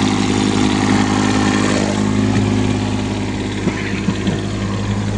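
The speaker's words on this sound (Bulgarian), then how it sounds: "В момента работи мотора, никакви дишъци" A three-cylinder, water-cooled engine idles close by with a steady low hum and an even throb, loud and continuous, with a few small bumps in level near the end.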